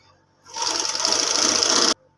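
A sewing machine runs in one continuous burst of just over a second, stitching the loop for a suit button at close range with a fast, even whirring buzz.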